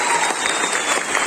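A seated audience at a success and motivation talk breaks into sustained applause for an honoured guest, a dense, steady roar of many hands clapping close by with no pauses.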